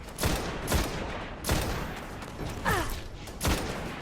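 Explosive-round gunfire in a video game: several heavy, spaced bursts of shots with sharp impacts and a brief mechanical whine between them, loud and close with no talking.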